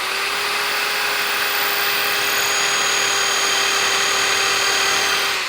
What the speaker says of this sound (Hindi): अभी पहले मैं नॉर्मल ड्रिल फंक्शन पे ही मशीन को रख रहा हूँ, उसमें आपको एक होल निकाल के दिखाऊंगा